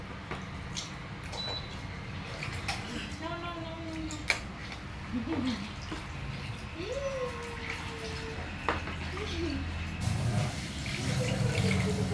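Water runs steadily from a tap during a baby's bath at home, a continuous wash under brief babbling and voice sounds, growing slightly louder toward the end.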